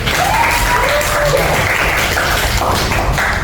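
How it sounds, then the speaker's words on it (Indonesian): Students in a classroom clap for a classmate, a loud dense burst of applause mixed with a few raised voices, continuing to the end. "Tapi tepuk tangan dulu untuk Muki."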